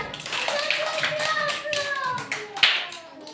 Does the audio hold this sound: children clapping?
yes